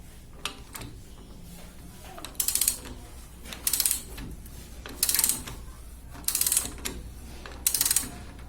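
A ratchet wrench clicks in five evenly spaced bursts while tightening a square-taper bicycle bottom bracket bearing, each burst a quick, close, crisp rattle of pawl clicks against a quiet background.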